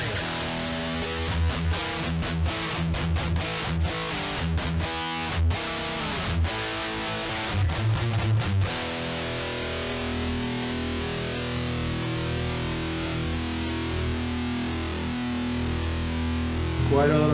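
A distorted electric guitar, an Ibanez RG550, plays heavily effected chords and notes, choppy strummed hits at first, then sustained ringing tones.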